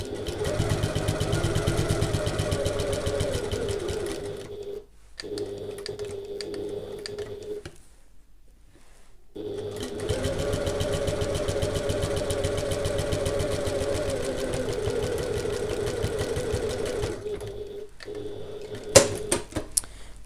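A domestic sewing machine stitches a fabric handbag in two long steady runs with a short pause between them, its motor humming loud and close, then a few brief stitches near the end.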